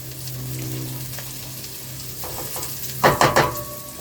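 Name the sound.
onions frying and being stirred in a pan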